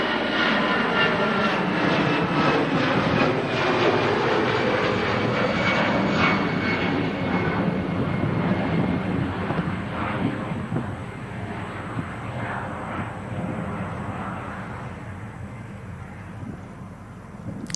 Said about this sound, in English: there's a Qatar 350 taxiing in on Apron Camp